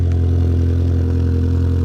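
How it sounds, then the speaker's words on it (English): A Honda Civic with a modified exhaust and about 200K miles idles loudly just after a cold start, a steady, deep, throbbing rumble with a faint clatter on top and no voices. "it's a cold start technically. Haven't turned on the car in a couple days, but as you can hear,"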